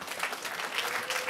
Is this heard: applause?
yes